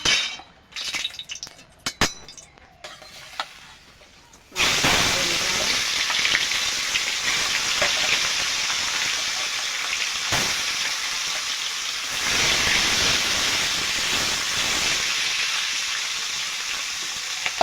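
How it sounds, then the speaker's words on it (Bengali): Fish seasoned with salt and turmeric sizzles and fries loudly in hot oil in a wok, a steady crackling hiss starting after a few seconds of quieter clinks and stirring, continuing without talk. "এবার আমি মাছটা ভেজে নেব।"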